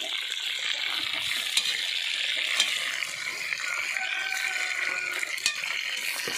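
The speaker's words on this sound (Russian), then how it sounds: "Все это все обжаривается." Steady sizzling and crackling of food frying in hot oil, with occasional sharp pops, close by and continuous.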